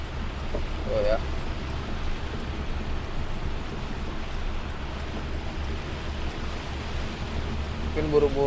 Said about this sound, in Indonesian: Buset, nggak neduh hujan segini gedenya.